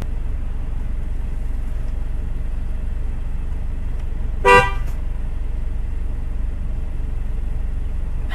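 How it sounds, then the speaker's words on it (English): A car horn gives one short, loud honk from close by, over a steady low engine hum inside the vehicle. "I honked like 4 times already."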